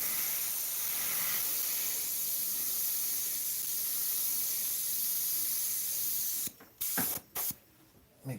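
An airbrush fed by a compressor sprays a steady, close hiss of compressed air for about six seconds, then cuts into a few short bursts with pauses between them.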